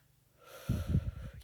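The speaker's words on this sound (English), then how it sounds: "you might start snoring." Snoring in deep sleep: a faint breath rises, then several low, rumbling snorts pulse one after another, each short and a little irregular, close by and with no talk.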